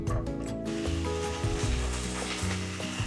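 Sliced leeks frying in olive or avocado oil in a pan produce a continuous close sizzle with light popping, set against a faint tonal background.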